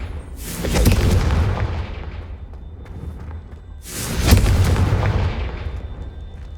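Two loud explosive blasts from the Confringo fire spell in the Hogwarts Legacy video game, each a booming burst with a long fading rumble, about three seconds apart.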